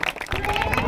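Applause from a crowd at the 2023 Chhattisgarhiya Olympics in Akola, honouring prize winners of traditional village games; loud, dense clapping swells in after a brief quieter moment and holds steady, with voices mixed in.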